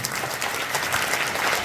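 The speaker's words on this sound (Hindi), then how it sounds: "बच्चे जोरदार ताली लगाएं एक बार" Schoolchildren clap loudly together in a classroom after their class 12 board exam results are announced, with dense, sustained applause filling the whole stretch and no voices on top.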